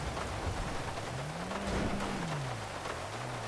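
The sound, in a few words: rain in video game GTA 5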